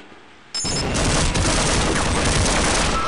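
An automated turret in Half-Life opens up suddenly after a short quiet lead-in, a dense continuous stream of rapid gunfire that stays loud and close to the end.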